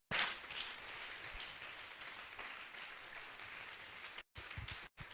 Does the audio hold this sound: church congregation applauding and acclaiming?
yes